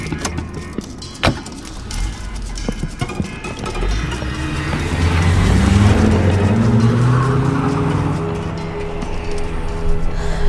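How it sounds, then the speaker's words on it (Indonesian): A car engine turning over and pulling away in a dramatized radio-play scene, with clicks and rattles at first, then a rising engine drone that swells and sweeps upward before fading slightly. "aku pun langsung pergi ke parkiran dan menyalakan mobilku"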